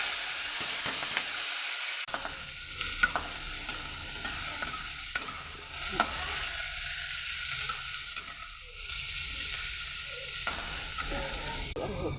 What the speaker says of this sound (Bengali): জিরে ফোড়ন দিয়ে দেবো। ডাটাগুলো দিয়ে দেবো।